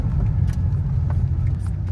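An air-cooled Porsche 911 pulls away in first and second gear in the rain, a steady low engine rumble close by, with no talking.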